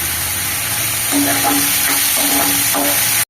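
Onions and green chillies sizzle in hot oil, a steady crackling fry with intermittent stirring scrapes and clinks.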